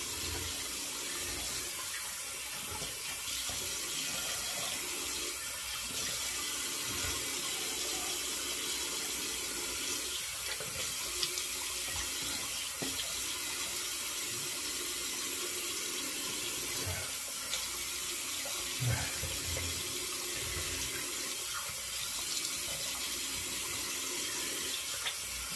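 Hot water runs steadily from a tap for a rinse, a continuous loud splashing hiss that holds at an even level throughout with no talking.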